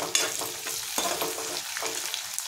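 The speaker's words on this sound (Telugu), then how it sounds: "ఉల్లిపాయలు ఇలా వేగినాయి కదా." Onions sizzle and fry in a pan for a brinjal and sweet potato curry, a steady hissing crackle with a few scraping stirs, close and moderately loud, with nobody speaking.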